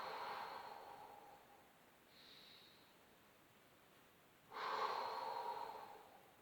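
Two exhalations during a floor exercise, soft breathy blows that are close but quiet, the second longer and stronger than the first, with a faint shorter breath between them.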